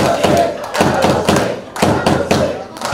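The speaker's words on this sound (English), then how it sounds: "You can hear what the crowd thinks. They loved it." An Australian wrestling crowd reacts to a move with loud cheering and shouting, punctuated by heavy thuds and pounding, surging in waves at close range.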